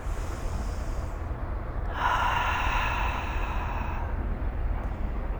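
A slow, deep exhale of breath during a Kundalini yoga breathing exercise, a soft airy rush close to the microphone over a steady low background rumble.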